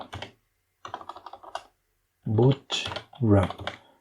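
Keys tapped on a computer keyboard while entering a Gradle command, heard as short bursts of clicking with a voice talking close by.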